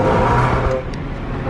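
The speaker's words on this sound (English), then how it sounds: "I've killed my exhaust." A Ford BF Falcon with a damaged exhaust revs loudly and close by, a rough, broad engine roar that holds steady and then dips slightly partway through.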